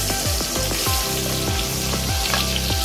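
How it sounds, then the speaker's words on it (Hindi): Prawns coated with turmeric and salt frying in the same oil used for potatoes, a loud close sizzle punctuated by repeated clanks and scrapes of a utensil against the pan, with no talking. "अभी उसी ऑयल में प्रॉन्स को फ्राई कर लेंगे।"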